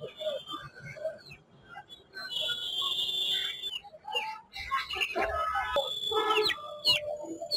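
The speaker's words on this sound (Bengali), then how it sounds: "এটা তো মুরগি তাই না? হ্যাঁ, এটা মুরগি।" Fancy and aseel chickens at the Kaptan Bazar poultry market cluck and call in short bursts, mixed with busy market clatter and people talking nearby.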